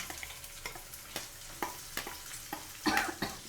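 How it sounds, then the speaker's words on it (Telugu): Soft sizzling of tempering seeds frying in oil, broken by a series of scraping stirs from a spoon against the pan. "ఇప్పుడు తాలింపు గింజలు వేగిపోయినాయి"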